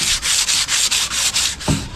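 Rhythmic sanding with sandpaper, back-and-forth strokes rasping about five times a second, close and steady, with a dull knock near the end.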